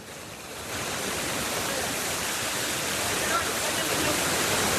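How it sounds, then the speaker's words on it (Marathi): Loud rushing water pours steadily like a waterfall or fast stream, a dense constant roar that swells in after a brief quieter start and holds at full strength to the end. "आवाज येतो जास्त पाण्याचा"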